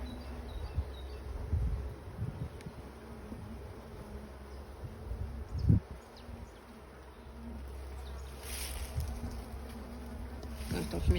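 Honey bees buzz around an open hive frame during transfer of a swarm, a soft continuous hum with scattered handling knocks and rustles nearby.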